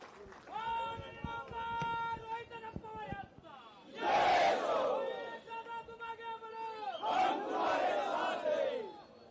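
Crowd at an outdoor political rally after a candidate files his nomination, with loud bursts of cheering and shouting that swell twice over background noise and a voice through the PA.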